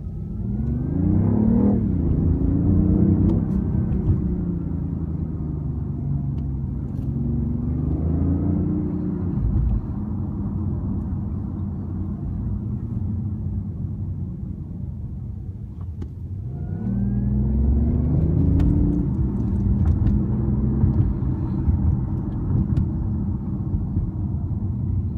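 BMW i8 sports car accelerating on a test drive, its engine note rising in long revving sweeps that ease off and climb again, a loud, close cabin rumble with no talk.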